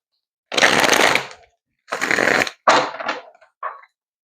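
Tarot cards being shuffled by hand in several quick riffling bursts, two longer ones followed by shorter flutters, close and crisp with no talking.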